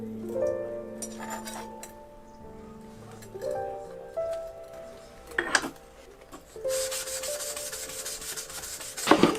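A knife blade slides over a natural Kyoto whetstone in gritty rubbing strokes, with occasional clinks and a longer, louder scraping pass near the end. Faint voices and tonal background sounds are mixed in.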